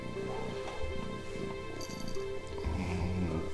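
A cat purrs close by, a soft continuous rumbling purr that fills the whole moment with no talking.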